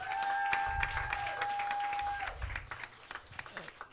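An audience at a Christian café event applauds, dense clapping from a nearby crowd that thins into scattered individual claps, with a steady sustained tone underneath at the start.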